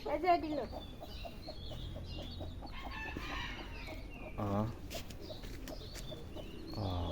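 Chickens cluck and a rooster calls in a home courtyard, native Bengal free-range birds, steady busy bird chatter throughout with a few louder squawks standing out.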